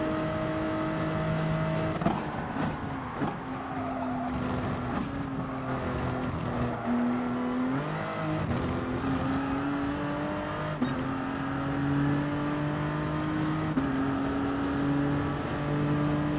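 Race car engines in Gran Turismo Sport, an FIA Nations and Manufacturers Cup race including a Toyota, drone steadily with rising revs and sharp gear changes, continuous and loud with no talking.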